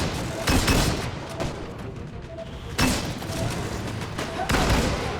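Gunfire bursts in the video game Disintegration come in heavy, booming volleys, three loud blasts a couple of seconds apart over steady rattling combat noise, with faint talk underneath.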